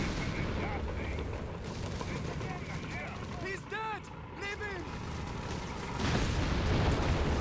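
Company of Heroes 3 battle sounds with gunfire bursts and mortar booms, mixed with whistling tones and rumbling, running under continuous commentary from a caster.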